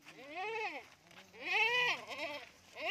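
Mundri sheep bleat on a livestock farm, several loud wavering calls in close succession, near and clear with faint background noise.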